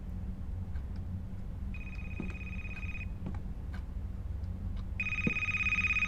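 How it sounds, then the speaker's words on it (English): A cell phone rings in two separate electronic bursts over a low background hum. The first burst comes early and the second near the end, each steady and moderately loud, with no talking. "Cell phone."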